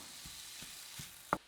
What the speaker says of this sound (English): Now, as the beef is cooking up